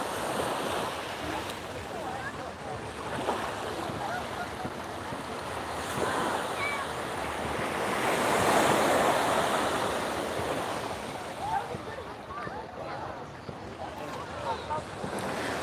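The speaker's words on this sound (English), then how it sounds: "You can hear the waves" Ocean surf at Waikiki beach, Hawaii, washes continuously in a broad hiss with wind buffeting the microphone, swelling louder near the middle before easing back, with no voices.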